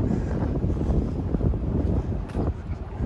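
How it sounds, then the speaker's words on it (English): Wind blowing hard into the microphone outdoors on a walk around the University of Regina campus, a loud, continuous low rumbling buffet with gusty swells throughout. "There's the wind."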